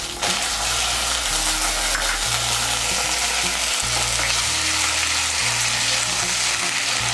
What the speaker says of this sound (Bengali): এর মধ্যে দিয়ে দিচ্ছি আদা বাটা। এর মধ্যে দিয়ে দিচ্ছি সামান্য একটু জল,